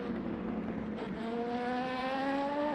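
A race car engine in the Le Mans Ultimate sim racing game revs with a rising, whining pitch while traction control makes the throttle dance, giving a steady close-up drone throughout.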